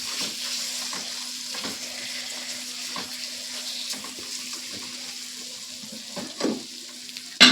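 Ginger-garlic paste and chopped tomatoes with spices sauté in a pan with a steady moderate sizzle, punctuated by regular spatula scrapes and stirring knocks, close by.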